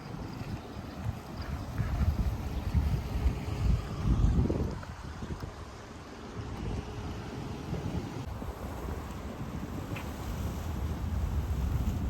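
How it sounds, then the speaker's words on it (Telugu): Seaside beach ambience at Salmiya on the coast of Kuwait, with steady wind noise buffeting the microphone over a low, continuous wash of sea and surf, no voices present. "ఇక్కడ సముద్రం బీచ్ దగ్గర, సీ సైడ్."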